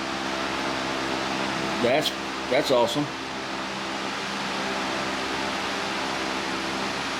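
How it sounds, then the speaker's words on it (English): An electric fan runs in a hot garage, a loud, steady broadband whoosh that fills the whole stretch, with someone briefly speaking over it. "Sorry about the fan noise"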